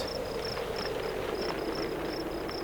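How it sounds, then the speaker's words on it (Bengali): Crickets chirp at night in a steady, repeating series of high pulsed trills over a constant faint hiss of background ambience, with no voices. "যে ঝিঝি পোকার ডাক ছাড়া আর কোনো আওয়াজই শোনা যাচ্ছিল না"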